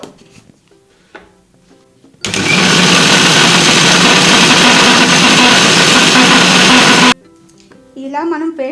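A kitchen mixer grinder whirs loudly at high speed for about five seconds, grinding onion, garlic, ginger and green chillies into a paste, with quieter moments before and after where someone speaks.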